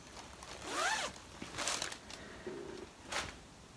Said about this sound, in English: So excuse the rustling while I put that one away.